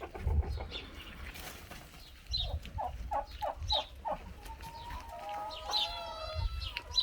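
Turkeys gobble and cluck in a coop shared with ducks, with a quick burst of rippling gobbles at mid-clip, then higher chirping calls, close and moderately loud.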